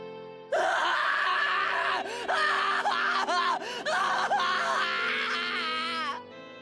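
A long, anguished scream from the Higurashi: Watanagashi-hen video game, wailing loudly and continuously for several seconds with brief breaks, over sustained background music tones.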